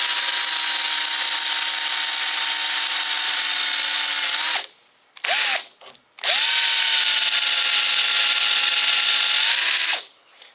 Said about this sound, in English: we'll just get our drill started here.